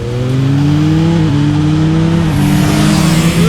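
A Yamaha Tracer 9 GT+ motorcycle accelerating hard in sport mode, the engine note climbing steadily with quick quickshifter gear changes dropping the pitch briefly before it rises again, loud and close.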